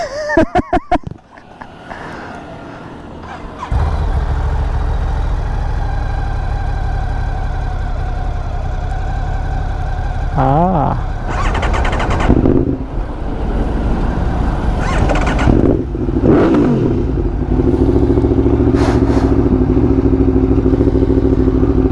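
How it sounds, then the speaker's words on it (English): An Aprilia Tuono 1100 V4 motorcycle cranks over and fires up, then settles into a loud, close, steady idle with several throttle blips and revs rising and falling. "Okay, time for the first start of the Aprilia."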